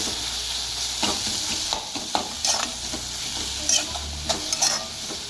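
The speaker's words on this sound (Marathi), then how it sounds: "याच्यामध्ये थोडंसं शेंगदाणाचा कोड घालूया आणि हलवून घेऊया" Cooked mustard and dill greens with peanut powder stirred in a sizzling pan, a continuous close fry under repeated spoon scrapes and light clinks.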